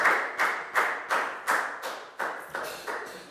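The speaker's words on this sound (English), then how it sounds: "A big round of applause for Lackow" A primary school class claps for a student in a steady, evenly spaced rhythm of about nine sharp group claps, each decaying quickly, with no talking over them.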